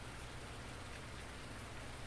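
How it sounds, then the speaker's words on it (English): Steady rain falling in a farming game, an even hiss of drops on surfaces that stays constant and soft throughout, with no voices. "We just need this rain to do one"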